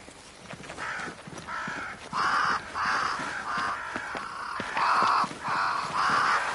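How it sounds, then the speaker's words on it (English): Crows caw near a great tree in the video game Banishers: Ghosts of New Eden, about eight harsh calls in an uneven rhythm over a soft ambient bed, loud and close. "crows. They flock to that great tree up there."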